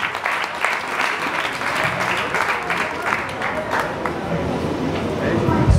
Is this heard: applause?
yes